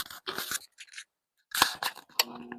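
A Honeywell SmartValve gas valve on a furnace gives a few sharp, close clicks in short bursts, separated by brief gaps of silence.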